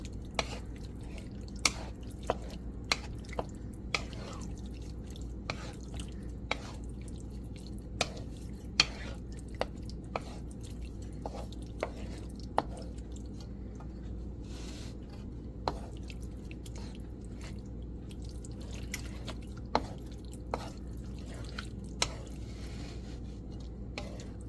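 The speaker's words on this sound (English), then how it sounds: "So we just got it in our wok. We're just stir frying." Cashew chicken stir frying in a wok, with a steady low sizzle throughout and frequent sharp clicks and taps of a utensil against the pan, close by and with no talking.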